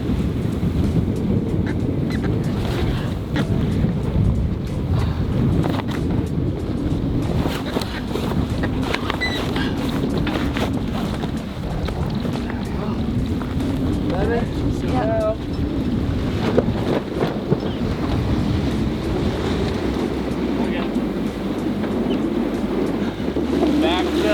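A sailboat under way on open sea between Ibiza and Spain, with steady wind buffeting the microphone, rushing water and hull noise running continuously throughout, and a low rumble near the end.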